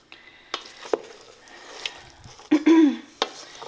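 Hot potatoes, onion and olives stirred together in a bowl, giving soft scraping and moist clinking strokes at an irregular pace, close and fairly quiet, with a louder cluster of scrapes near the end.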